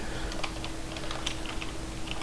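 Keys clatter on a computer keyboard while HTML code is typed, a quick, steady run of light clicks close to the mic over a constant background hiss.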